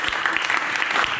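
Dense, steady audience applause at a seminar, many hands clapping together at an even, fairly loud level with no talking over it.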